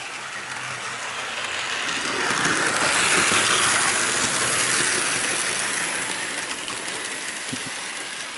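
A Bachmann Pacific Flyer model steam train runs along its track with a steady mechanical whirring and clicking of wheels. The sound swells as it passes close, then recedes, with no talking.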